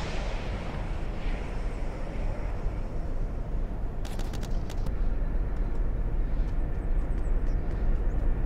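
Airplane in the 2007 military game ArmA passing overhead, a steady broadband engine roar that swells slightly toward the end, with a few brief sharp crackles in the middle.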